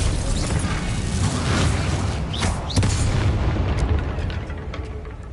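A Bombarda explosion spell in a Hogwarts video game: a loud, sustained rumbling blast with crackling debris and a few sharp pops, close and heavy, fading slightly toward the end.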